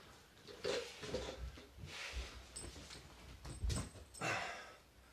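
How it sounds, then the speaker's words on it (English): A dachshund whimpers and shuffles indoors, making faint, intermittent whines and scuffling noises in short bursts against a quiet room. "Gotta go see what the wiener dog got into."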